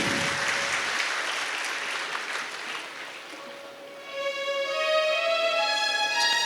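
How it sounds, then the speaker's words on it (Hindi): An audience at a spiritual satsang gathering claps together in sustained, dense applause that holds steady, fades briefly, then swells again as tonal singing or music rises beneath it. "पुनः सब एक दूसरे के लिए तालियों की गड़गड़ाहट करें।"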